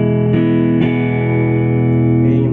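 Ibanez Gio electric guitar fitted with a sustainer pickup, played on the neck pickup: a sustained, harmonically rich tone with two brief pick attacks early on, ringing steadily and loud with no voices.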